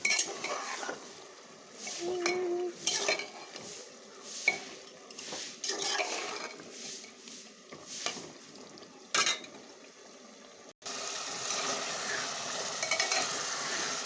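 Goat mutton is sautéed in a pan and stirred, ahead of pressure cooking. A low sizzle runs under repeated metallic scrapes and clinks of a spoon against the pan, with short pauses and no voices.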